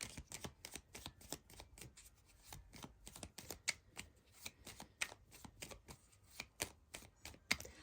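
Deck of moon oracle cards being shuffled up close, a rapid run of crisp papery riffles and slaps in an uneven rhythm, quiet overall with no talk.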